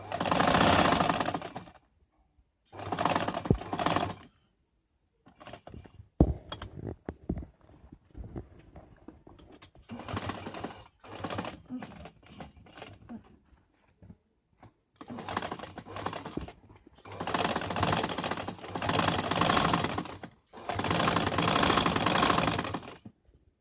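A sewing machine stitches a ladies suit collar in close bursts of rapid, even clatter, several runs of a couple of seconds each separated by quiet pauses and handling sounds, with no talking.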